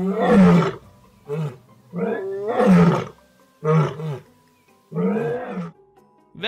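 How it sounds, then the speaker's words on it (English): Three lions on a road roar loudly in a series of deep, drawn-out bellows, six heavy bursts separated by short pauses, close and powerful with grunting tails between calls. "These three lions, moving freely on the road, were captured while they were screaming loudly"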